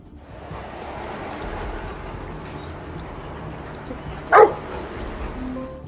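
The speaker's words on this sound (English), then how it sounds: "The cop brought his black dog over to sniff the car" A black police K9 dog searching a truck gives a single sharp bark that stands out loudly over a low steady background hum.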